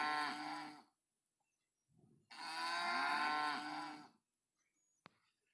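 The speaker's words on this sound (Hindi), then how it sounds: "गाय बछड़े को देखकर रंभाने लगी।" A cow lows at her calf in two long moos, loud and close: a shorter one, then a fuller, longer one after a pause, with near silence around them.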